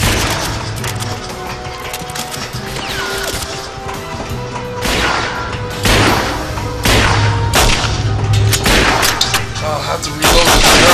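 Gunfire in the video game 007 NightFire, repeated loud sharp shots and bursts with crashing impacts, intensifying toward the end over a low game background.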